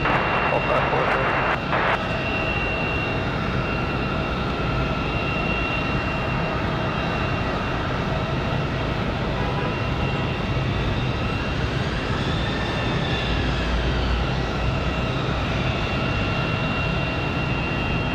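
A Frontier airliner lands in gusty wind at Raleigh-Durham airport with a loud, sustained jet engine roar and a steady whine, along with brief radio chatter at the start and a roughness that swells near the end.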